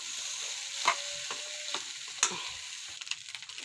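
Leftover rice and mung beans stir-fry in a hot pan, a close steady sizzle broken by a few spoon scrapes and stirring knocks, with no one talking.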